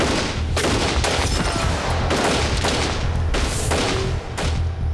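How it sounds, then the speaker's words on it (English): A rapid fusillade of about twenty gunshots during a small-town business robbery, loud and dense bursts packed into a few seconds with little pause between them. "20 shots are fired in a matter of seconds."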